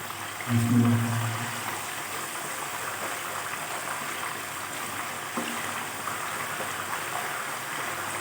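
Chicken leg pieces go into hot water in a kadhai with a soft thud, followed by a steady rushing bubble and hiss that continues evenly throughout.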